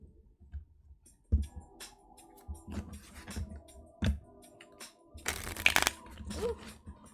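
A deck of cards is shuffled by hand for a reading, giving soft irregular riffles, snaps and clicks that are fairly faint and close. One louder burst of crackling comes near the end.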